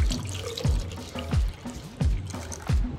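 Fermented pineapple-peel water poured into cooked rice for masato, a steady liquid splashing with repeated low gulping surges about every two-thirds of a second, close and moderately loud.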